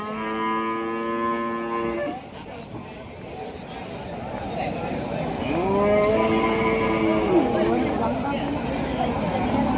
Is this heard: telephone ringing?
no